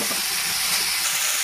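Carrot and lotus root cooking in a pan over a slow flame give off a steady, even hiss and soft sizzle that continues without a break, close by and moderately loud, with no voices.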